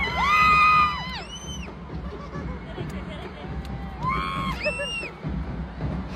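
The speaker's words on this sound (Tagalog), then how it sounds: "Kaya naaliw din kami at grabe ang sigaw ng mga person." Crowd noise fills an arena at the Star Magic All Star Games 2024, with a steady roar of voices. High shouts and screams rise over it near the start and again around the middle. The crowd cheers loudly and keeps going throughout.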